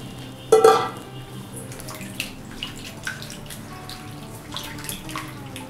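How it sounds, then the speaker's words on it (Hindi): Sliced onion rings are rinsed in cold water in a kitchen, starting with a brief burst of running tap water, then softer splashing and stirring in a bowl with occasional light clinks. "अब इसको ठंडे पानी से अच्छे से धो लेंगे, जिससे ये लंबे समय तक क्रिस्पी बनी रहेगी।"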